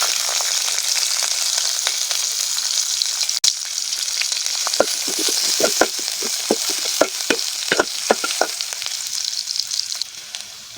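Onions and green chilies frying in hot oil give off a steady broadband sizzle, with bright crackles and pops growing denser in the second half. No voices.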